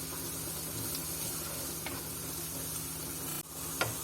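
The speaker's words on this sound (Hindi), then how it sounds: "अदरक लहसुन का पेस्ट डालूंगी और इसको भी हल्का सा सौते करूंगी" Ginger-garlic paste sautés in a pan for dhaba-style dal palak, giving a steady, moderate sizzle. A few light scrapes and taps break it up, and one brief pause comes near the end. No talking.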